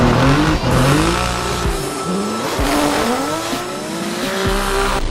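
Tires squeal loudly on a Nissan 370Z drift car with a GTR engine as its engine rises and falls through the slide, close and sustained without any voices.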